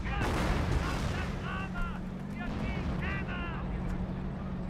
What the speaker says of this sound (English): I think that sounds like an actual barrage.